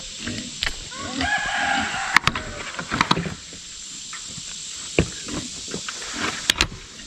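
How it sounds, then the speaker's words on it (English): Chickens cluck and a rooster crows in the background inside a chicken coop amid clattering and scattered knocks, fairly faint over a steady hum. "So you can see I got some of the chickens in here."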